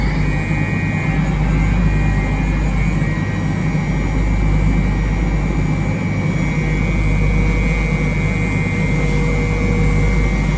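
A CNC machine cuts 799 cylinder heads for a 5.3 LS engine build, taking a 0.020-inch pass. It makes a loud, steady mechanical drone with a constant tonal whine that runs unbroken throughout, and no voices are present.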